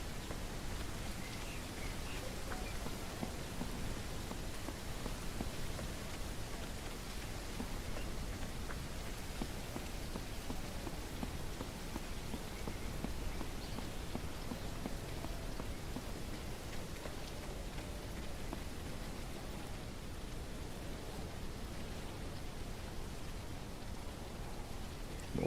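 Steady rain pours in the survival zombie game HumanitZ, a dense, even hiss of drops on surfaces that holds at a constant moderate level for the whole stretch with no voices.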